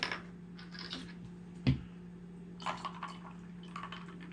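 Soda water is topped into a gin sling cocktail in a glass: a soft, quiet pour with light fizzing and scattered small ticks, plus one sharp clink near the middle.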